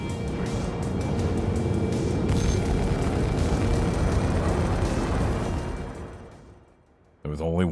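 A bomb blows up in the Star Citizen game, a loud, sustained roaring blast with heavy low rumble lasting several seconds before fading, followed by a brief burst of another sound.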